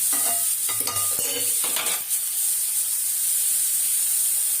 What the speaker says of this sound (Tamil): கொஞ்ச நேரம் கோஸ் வதங்கட்டும் பிள்ளைங்களா, கொஞ்சம் வதங்கட்டும்.